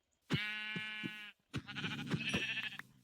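A sheep in the Minecraft video game gives two bleats: a long, loud, even bleat, a short pause, then a wavering, broken second one.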